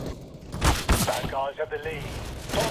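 Gunfire from a video game plays through headphones in quick crackling bursts, a short fusillade with thuds, while someone talks over it in Thai.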